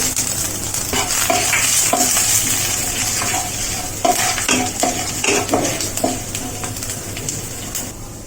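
Asafoetida and ginger fry in hot oil in a pan, steady sizzling broken by repeated scrapes and clinks of a spoon stirring, loud and close, easing slightly toward the end.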